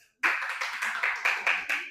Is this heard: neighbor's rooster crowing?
no